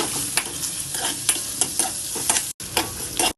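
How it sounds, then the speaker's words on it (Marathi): Spoon stirring peanuts, onion, chilli and turmeric in a hot frying pan for kanda pohe, with repeated scraping strokes over a steady sizzle and two brief breaks. "त्यानंतर टाकूया शेंगदाणे टाकले की फिरून घेऊया"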